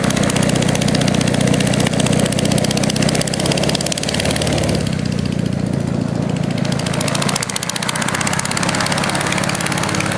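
A Tin Bird FAR103 ultralight aircraft engine idles steadily nearby, a loud continuous mid-pitched drone with propeller buzz that holds throughout, slightly dipping partway through before settling back.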